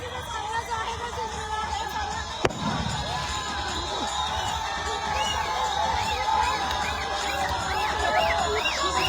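Crowd of supporters cheering and shouting after a local councillors' cricket match victory, a steady broad roar throughout with one sharp bang near the start, voices mixed in the din.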